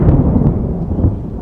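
A thunderstorm rumbles steadily in a forest, a deep continuous roll of thunder with a few sharper cracks, loud and close, with no speech.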